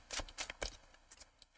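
A tarot card deck is shuffled up close, with a run of crisp riffling bursts and flicks in an uneven rhythm, loud and clear with no speech over it.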